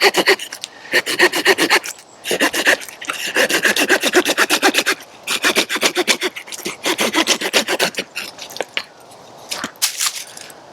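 A Hooyman 6-inch Megabite folding pocket saw cuts through a piece of poplar in quick, rhythmic rasping strokes, loud and close, with brief pauses between runs.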